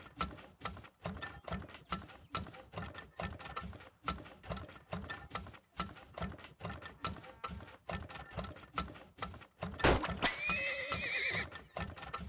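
Horse in the video game Turmoil, with steady rhythmic hoofbeats clopping throughout and a loud whinny bursting out near the end, mixed with faint mechanical clicks.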